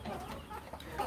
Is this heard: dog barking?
no